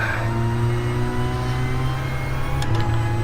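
A diesel car accelerates out of corners on the Nurburgring, a steady mid-pitched engine drone heard from inside, held continuously under the throttle with no voices.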